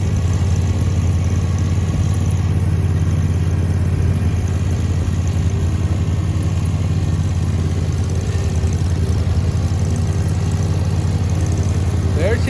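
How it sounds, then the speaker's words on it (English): A zero-turn lawn mower engine runs continuously and fairly loud, holding a steady low drone with no breaks, with no talk over it. "There's Joy running the zero-turn mower"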